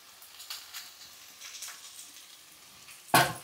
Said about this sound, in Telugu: ఆనియన్స్ వేసేస్తున్నాను, కరివేపాకు.